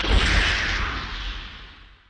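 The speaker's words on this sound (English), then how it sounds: "I have this arc. It's nothing more than like kind of an electric arc" A loud, noisy electric arc crackle with a heavy low rumble that sweeps and slowly fades out over about two seconds, processed and wide.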